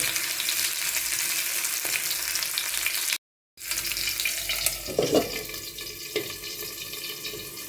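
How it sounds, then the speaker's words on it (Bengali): Pieces of chicken for tikia fry slowly in oil over very low heat, making a continuous low sizzle. It cuts out briefly, then returns with a few clinks and scrapes near the end. "তো আমি এখানে চিকেনগুলো দিয়ে দিলাম। এবং এটা আমি খুব লো হিটে আস্তে আস্তে ভাজবো।"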